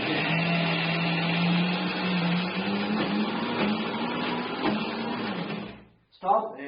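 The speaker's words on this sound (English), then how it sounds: "let's keep this utensil inside the grinder. Keep it tight. Now keep the lid, shut it, hold it" A kitchen mixer grinder runs continuously while grinding selroti batter, a steady loud motor whine with a low hum, then cuts off abruptly near the end before a brief clatter.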